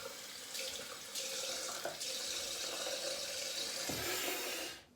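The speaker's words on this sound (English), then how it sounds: "Then I rinse quickly with really cold water." Cold water runs steadily from a bathroom tap into a sink while a freshly shaved face is rinsed, with splashes and shifts in the flow close by, then the tap shuts off.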